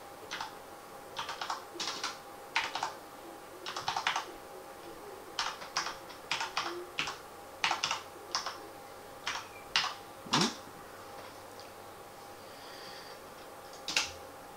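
Close, quiet keystrokes on a computer keyboard come in short bursts with brief pauses as a name is typed into a Steam friend search, without any talking.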